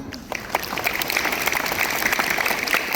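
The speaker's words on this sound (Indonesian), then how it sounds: "Luar biasa dong tepuk tangan" Elementary schoolchildren applauding at a school orientation morning, a crowd of small hands clapping steadily and densely, building slightly and holding at moderate loudness.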